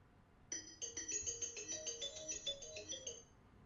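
A phone rings after a hearing aid app's find-phone command, giving a bright, repeating melodic ringtone of chiming notes that starts abruptly and plays for about three seconds, quiet and clear with no talking.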